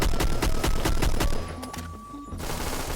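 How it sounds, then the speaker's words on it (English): SA58 SPR rifle in the Phantom Forces video game firing a rapid series of heavily distorted, bass-boosted shots in a steady rhythm, loud and close, then cutting off into a brief quieter tail. "when I shoot it, it sounds like super distorted and like bass boosted"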